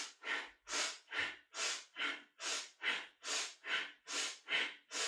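Steady, rhythmic breathing during a kundalini yoga kriya, about ten strong breath cycles in a regular pulse, close and clear with no talking.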